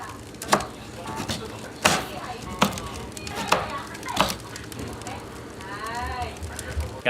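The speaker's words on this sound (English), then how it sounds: "let's slice the oranges" A knife slices through fresh, seedy oranges on a board, giving a series of sharp, close cuts at uneven intervals while people talk over the cutting.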